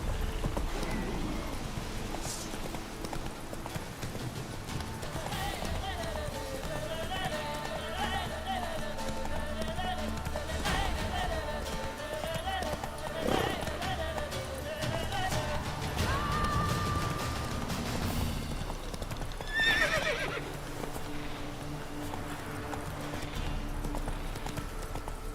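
Roach, the horse in The Witcher 3, gallops with steady hoofbeats and gives a brief neigh over game music and ambient sound effects, and someone speaks now and then.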